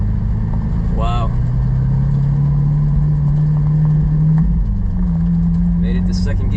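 A Lamborghini Aventador engine drones loudly from inside the cabin, climbing steadily in pitch, then dropping at a gear change and pulling again, with brief voices over it.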